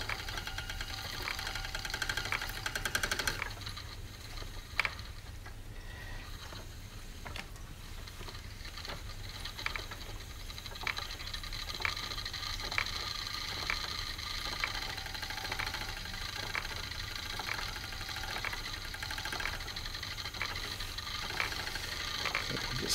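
An Ashford Traditional spinning wheel with spindle attachment spinning yarn, giving a steady whirring hum under a regular soft knocking rhythm, close and continuous, no talk.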